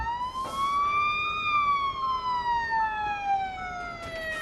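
A police car siren from the Police Simulator: Patrol Officers video game wails in one long, loud, clear sweep that rises and then slowly falls, with no talk.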